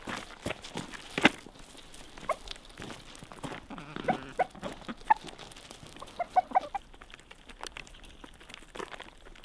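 Backyard chickens in an Alaska coop clucking softly and intermittently while pecking at sprouted barley, close and fairly quiet, with scattered scratching and rustling.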